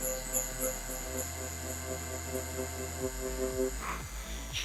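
Tattoo machine needle buzzing as it shades skin, a faint steady electric hum with its pitch shifting partway through, close by and with no talk.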